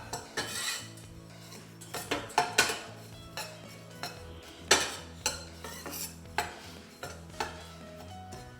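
Oats dry-roast in a pan while a utensil stirs, scraping and clinking against the metal in an irregular rhythm of close, sharp knocks and rattles over a faint hum.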